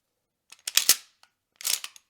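A Mossberg 500 shotgun with a rebuilt trigger assembly and a Tacstar pistol-grip front end is cycled, giving two sharp bursts of close metallic clacks and clicks with quiet between them.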